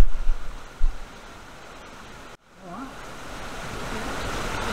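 Water rushes beneath stone steps in a Croatian national park, a steady broadband roar that is briefly interrupted by a short dropout and then returns, with faint voices audible at moments.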